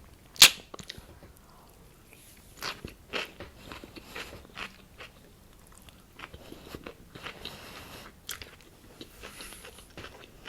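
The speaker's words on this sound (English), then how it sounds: "Sorry if these are like awful eating sounds, by the way." ASMR mukbang eating: close, crisp bites and crunchy chewing, with a sharp snap near the start, then irregular soft crackles and mouth sounds at low volume, no talking.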